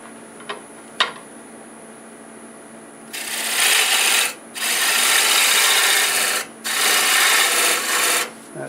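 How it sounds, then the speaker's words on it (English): Wood turning a macadamia bowl on a lathe, flattening the top and cutting the tenon: a few light taps, then bursts of loud rasping tool-on-wood scraping with short pauses between, no talking. "I'm going to go ahead and flatten this top and cut the tenon down to size"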